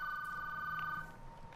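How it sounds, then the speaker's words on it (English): A phone in Call of Duty Warzone rings with a steady electronic trill for about a second, then fades, faint against quiet game ambience. "I'll answer the phone, goddammit."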